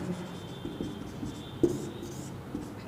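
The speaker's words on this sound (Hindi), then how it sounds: "मैं आपके सामने यहाँ ट्रिक का फॉर्मूला लिखता हूँ" A formula being written on a board during a maths lesson, faint scratchy strokes under steady room hiss, with one sharper tap partway through, close and quiet, no clear talk.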